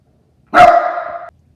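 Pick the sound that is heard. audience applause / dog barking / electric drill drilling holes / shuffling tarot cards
dog barking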